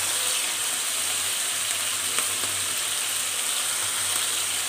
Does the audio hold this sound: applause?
no